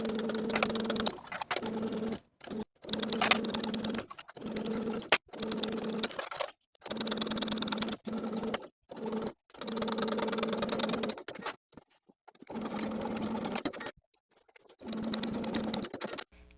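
A sewing machine sews bias tape and a button loop on a raglan sleeve top in a run of short, steady bursts separated by brief pauses. It sounds close and loud, with no talk.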